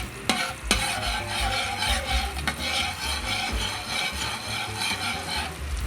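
Butter melting in a pan as it is stirred, with scraping stirring strokes and a steady frying sizzle close up, plus a couple of sharp utensil clicks near the start.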